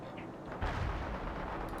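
Heavy artillery barrage in the war strategy game World in Conflict: a dense, rumbling roar of distant booms and blasts, continuous and fairly loud throughout the short stretch.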